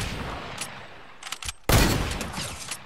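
Gunfire in a Fortnite arena duos match: a few scattered shots, then a loud close burst, with overlapping shots from several players continuing afterward.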